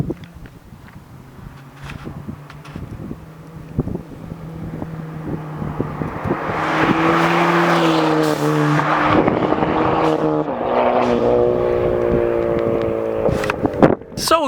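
A little 4-cylinder car approaches with a rising engine note and rushes past at speed, loud and close, its revs climbing through gears amid wind buffeting on the microphone.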